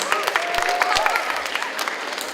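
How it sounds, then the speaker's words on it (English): Applause from an audience at a school DARE graduation ceremony, steady dense clapping throughout with a whistle-like tone rising above it. "Another big round of applause for Mrs. Onyemi's class."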